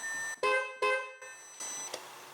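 A thin, high-pitched Audi A8 D4 car horn sounds in three short honks with brief gaps, then a final weaker toot; it sounds tinny and small rather than like a full car horn.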